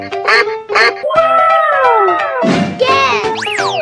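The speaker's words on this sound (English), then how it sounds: "Duck," A duck quacks in an escape-room guessing game, with bright, loud honking calls and springy boing-like effects tumbling over one another, and a voice mixed in.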